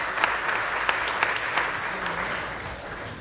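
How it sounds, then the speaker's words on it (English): Steady applause from a large audience at a civic speech in Philadelphia, with dense clapping throughout and a few louder claps standing out, with no talk over it. "Please give yourself a round of applause."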